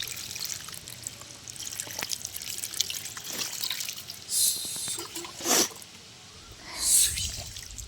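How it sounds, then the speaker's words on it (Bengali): Water poured from a container onto a potted lotus plant, a few short splashing bursts over a quiet outdoor background with faint trickling between them. "তারপর এবারে আমি এটাতে জল দিয়ে দিচ্ছি আরো।"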